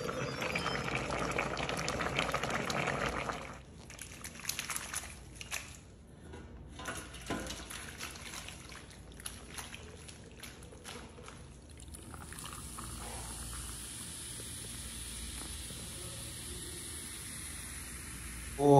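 A pressure cooker holding chicken and pasta in water hisses and bubbles with a steady, close boil, the noise shifting in texture partway through before settling into a constant steam-like rush.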